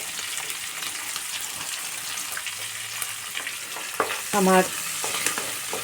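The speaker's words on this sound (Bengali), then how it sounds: "এরপর আমি দিয়ে দিচ্ছি কুচিয়ে রাখা পেঁয়াজ।" Chopped onion going into hot oil for a Bengali chilli chicken, cooked over low-medium gas heat, giving a steady moderate frying sizzle with stirring scrapes and a brief louder hiss near the end.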